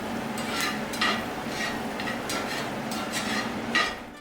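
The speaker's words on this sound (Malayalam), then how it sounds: "മീഡിയം ഫ്ലെയിമിൽ തന്നെ വെച്ച് മല്ലി വറുത്തെടുക്കുക." Coriander seeds dry-roasting in a pan over a medium flame, rattling and scraping in repeated stirring strokes with a steady crackling hiss underneath, close and moderately loud.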